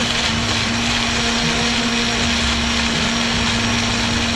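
A blender crushing ice for a coconut rum cocktail whirs continuously at high speed, a loud, steady grinding hum that holds for several seconds without a break.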